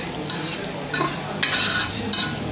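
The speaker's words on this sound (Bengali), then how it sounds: "এখন আমি ভেন্ডিগুলো দিয়ে দেবো" Okra tipped into a frying pan and stir-fried with mixed vegetables and a little water, giving a steady close sizzle broken by several scraping stirs of the spatula, with no talking.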